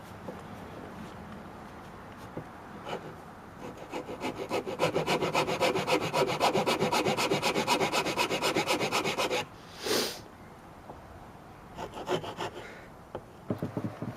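Wood sawing or filing as notches are cut into a handmade wooden slingshot, a steady rapid rasping stroke rhythm for several seconds, then a brief pause, a short burst and scattered scrapes, close and alone.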